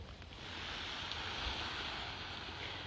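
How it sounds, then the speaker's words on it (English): Steady rushing flow of running water in a garden, a continuous broadband hiss that stays even and fairly close throughout, with no voices. "Once I start hearing that water, I know it's garden season."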